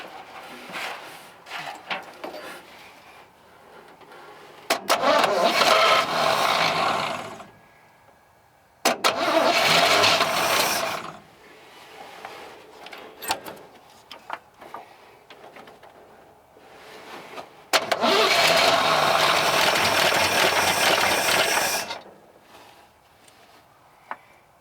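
A fire-damaged Chevrolet C10 truck engine running on its carburetor, cranking and catching in several loud bursts of roaring revs separated by quiet gaps, close up with no talking.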